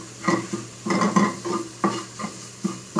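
Paneer bhurji cooks over a low flame, a soft sizzle broken by several bursts of spatula scraping and light clatter against the pan, close and alone.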